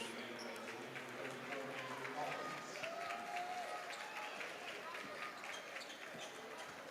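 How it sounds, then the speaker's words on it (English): Applause from a boys' high school basketball crowd in a gym rises and holds steady at a moderate distance, mixed with scattered clapping and a commentator talking over it. "Tanner Hall goes to the bench with a well-deserved round of applause."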